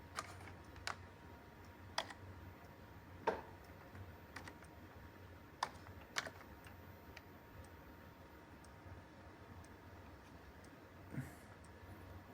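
Sparse keystrokes on a computer keyboard, a handful of crisp, quiet clicks spaced irregularly over several seconds against a faint room hum.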